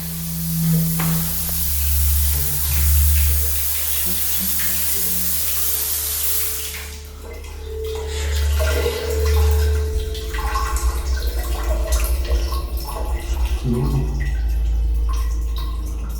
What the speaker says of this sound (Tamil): இப்போ இந்த இடத்துல தண்ணியை திறந்து விடுறது யாரு?